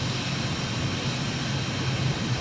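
A propeller airplane engine in Microsoft Flight Simulator, cruising at about 3,500 feet over Dushanbe, Tajikistan, drones steadily and evenly throughout with no voices over it.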